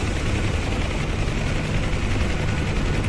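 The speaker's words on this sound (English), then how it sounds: "You can see a couple Blackhawks down there taxiing to the end of the runway for takeoff." Black Hawk helicopters taxi toward the end of a runway at Nellis Air Force Base in the DCS flight game, a steady loud rotor and turbine roar with dense rumbling that never lets up.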